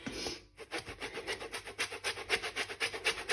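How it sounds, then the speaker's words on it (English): An orange is grated for zest over chocolate cake batter, giving quick, regular rasping strokes that repeat steadily, close and fairly loud, with no talking. "So we're just going to grate some of the zest into it"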